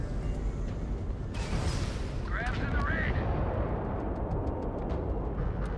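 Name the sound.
rocket missiles launched and exploding in Starfield video game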